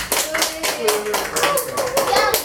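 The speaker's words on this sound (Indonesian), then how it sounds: "Beri aplaus ya buat Aulia." Classroom applause breaks out in a quick burst, many hands clapping in an uneven patter close by, with children's voices chattering underneath.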